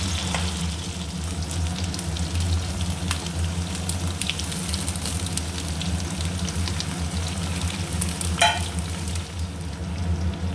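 Omelette pieces fry in a pan with a steady, loud, close sizzle throughout, with occasional faint scrapes of a stirring utensil and no talking.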